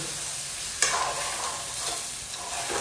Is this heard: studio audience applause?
no